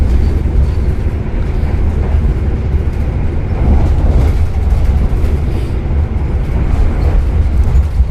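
Steady rumble of the Taksaka luxury-class passenger train running on the rails, heard from inside the carriage as a continuous low roar with faint rhythmic clatter throughout, no talking.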